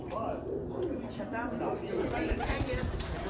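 A black pigeon coos on a rooftop among a flock of male pigeons, with steady outdoor background noise and someone talking over it.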